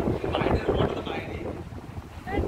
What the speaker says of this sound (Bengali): কি হাওয়া দিচ্ছে বাপরে বাপ